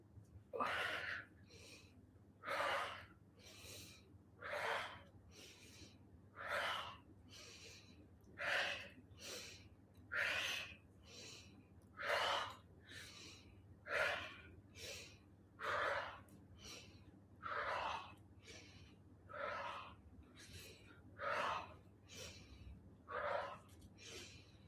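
Slow, deep breathing repeated steadily, each long audible inhale and exhale through the nose and mouth close to the microphone, during a guided relaxation exercise, with no speech over it.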